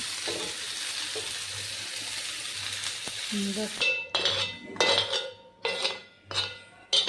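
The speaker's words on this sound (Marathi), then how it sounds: "टोमॅटो कांदा टाकला आता तव्यावर." Onion and tomato hit a hot tawa and sizzle steadily, followed by a run of sharp metal spatula clinks and scrapes against the griddle as the mixture is tossed and stirred.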